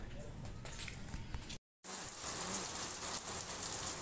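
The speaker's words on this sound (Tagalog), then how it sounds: "Kahit pala dito sa Manila tuwing hapon umuulan" Steady afternoon rain falling in Manila, a continuous close hiss of drops on surfaces that briefly cuts out mid-clip, with no voices.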